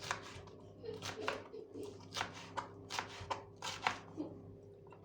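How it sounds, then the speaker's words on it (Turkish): Sharp knife chops through peppers on a cutting board, a steady run of crisp taps close by, coming in quick clusters of two or three. "Onları güzelce şöyle küçük küçük bir doğrayayım."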